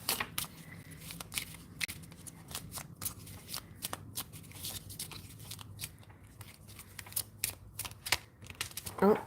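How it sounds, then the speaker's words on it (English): Playing cards being shuffled by hand, a rapid run of crisp riffling and flicking bursts that repeats throughout, close and fairly loud, with faint background noise between shuffles. "Let me keep shuffling."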